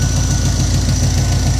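A 1968 Pontiac engine fitted with a Holley Sniper fuel injection system idles close up, a loud, steady rumble with a regular low pulsing throb and no other sounds.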